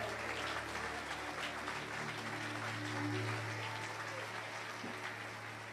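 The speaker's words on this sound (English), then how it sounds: "Another round of applause for Danella, ladies and gentlemen." Sustained applause from an audience at a Glebe Polyclinic renaming ceremony in St. George, a steady broadband clatter of clapping holding at even loudness throughout with a low hum beneath.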